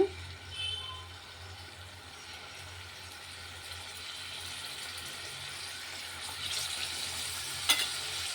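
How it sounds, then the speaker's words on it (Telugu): Dried fish frying in hot oil in a pan, a steady broad sizzle holding at an even level throughout, louder and brighter toward the end, with no one talking. "ముందు ఆయిల్లో ఇవి వేపుదామండి వాసన ఉండదు వేపితేనే"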